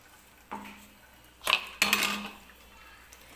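Spoon pressing ground coconut against a metal strainer to squeeze out coconut milk, a few close clinks and scrapes, the loudest pair coming near the middle, with quiet gaps between them.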